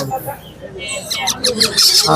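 Several pet birds, including parrots and mynas, chirp and squawk close by at a busy bird market in Mirpur 1, with voices murmuring in the background.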